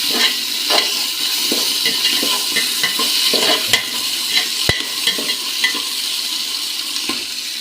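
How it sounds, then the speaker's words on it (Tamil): Sliced onions frying in oil with cinnamon for chicken biryani: a continuous close sizzle under repeated scraping stirs of a spoon against the pan, with one sharp metallic clink. "வெங்காயம் நல்லா பொன்னிறமாக வதக்கட்டும்."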